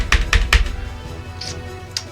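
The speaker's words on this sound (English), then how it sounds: "it's gonna make a little clicky sound" A HyperX Alloy Origins mechanical keyboard with blue switches clicks under a few sharp keystrokes, three quick presses close together followed by two more spaced-out clicks, close and crisp.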